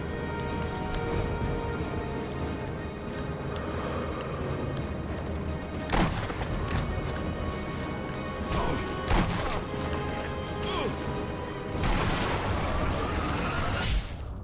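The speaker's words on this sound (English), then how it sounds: "Everybody is shooting here." Gunfire in the video game Sniper Elite V2: a dense, loud battle bed with several sharp rifle cracks and booming shots standing out at irregular intervals.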